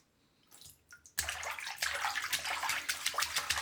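A hand sloshes and swirls water in a sink, starting faint after a moment of quiet and then splashing steadily and close by.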